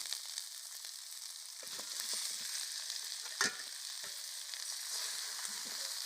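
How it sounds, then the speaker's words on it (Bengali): Rui fish with spring onion fries in a pan with a steady, close sizzle, and a short louder burst of hissing comes midway when the fish goes in. "এখানে আমি মাছটা দিয়ে দেব"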